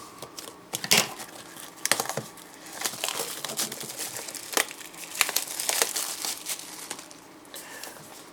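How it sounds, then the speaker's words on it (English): Packaging of a Yi Mini Dash Camera is opened up close with scissors at hand, giving a run of crinkling, rustling plastic and cardboard with scattered sharp snips and tearing bursts. "Let's go ahead with the unboxing."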